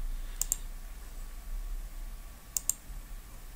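Mouse clicks while copying an address on a computer: two quick double clicks a couple of seconds apart, crisp and close over a faint background hum.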